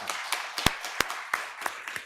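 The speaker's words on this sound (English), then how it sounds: "let's give them a round of applause and thank you for your time" An audience at a health and transportation policy panel claps for the panelists, a sparse scattering of separate handclaps rather than a full ovation, fairly faint and uneven.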